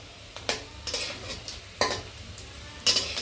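Rui fish pieces fry in a village kitchen pan with a soft, steady sizzle. Periodic scraping stir strokes of a spatula against the pan sound fairly close.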